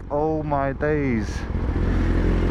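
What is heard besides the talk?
BMW S1000RR motorcycle engine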